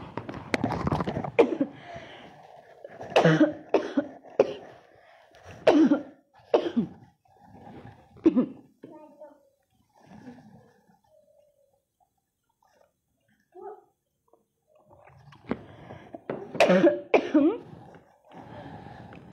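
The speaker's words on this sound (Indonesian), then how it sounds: "Sebentar, pengen batuk." Several bursts of coughing with throat clearing, close and fairly loud, broken by a quiet pause before another cluster of coughs near the end.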